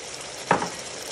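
Potatoes fry in a pan with garam masala and green chillies, a soft continuous sizzle with one brief stirring scrape in the middle, close and alone.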